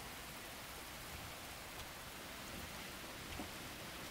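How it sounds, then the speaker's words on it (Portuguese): Faint, steady rain patters softly and evenly throughout, a quiet hiss with no voices. "Que alegria ouvir o barulho da chuva."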